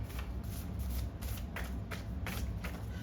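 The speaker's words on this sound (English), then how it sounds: "I could shuffle these on camera." Tarot cards are shuffled by hand in a steady series of soft riffling bursts, close and quiet, with no talking.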